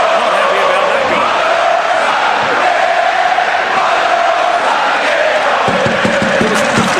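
A large stadium crowd in PES 6 roars in a World Cup match after a goal most fans dislike, a loud, continuous wall of shouting and jeering that fills the whole stretch.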